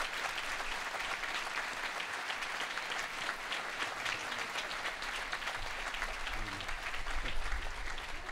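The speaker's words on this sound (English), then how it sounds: "I'll ask them to stand and take a well-deserved round of applause." Sustained audience applause at a school closing-day ceremony, dense steady clapping from a large crowd for about eight seconds, swelling slightly toward the end.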